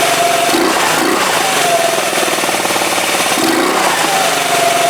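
A scooter engine running with its air filter removed, loud and close with a raw, rasping intake roar, its pitch rising and falling slightly as it revs.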